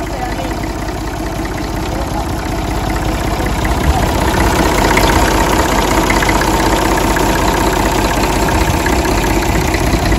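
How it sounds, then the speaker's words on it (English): A Fordson Dexta tractor's diesel engine idles steadily and loudly close by, a dense, even mechanical rumble that holds for the whole stretch without pauses. "Do you want to fire one up and let's have a listen? Starts instantly."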